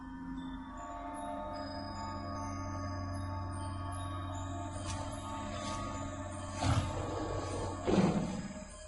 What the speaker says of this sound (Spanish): El tigre dientes de sable era uno de los animales que dominaba aquel periodo.